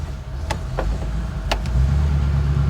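An old Ford flathead car engine runs at a steady low idle, a close, even rumble broken by a few sharp mechanical clicks, with no talking.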